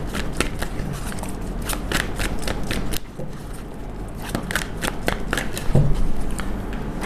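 Tarot cards being shuffled by hand, a steady run of crisp riffling and papery slaps close up, with a brief lull in the middle before the flicking resumes.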